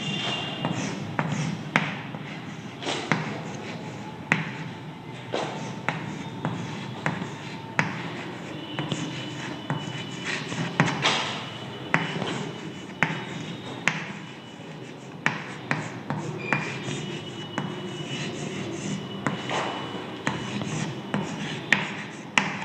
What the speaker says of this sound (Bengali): এবার একটা এক্সাম্পল লিখছি, দেখো।